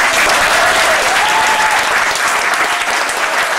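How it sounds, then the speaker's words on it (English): Audience at a blues camp applauding, a steady dense clapping that fills the whole stretch at full strength, with no talk over it. "So give them a round of applause."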